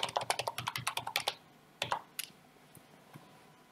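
A password is typed on a computer keyboard, a quick close run of soft key clicks followed by a few scattered taps, quiet and without talk.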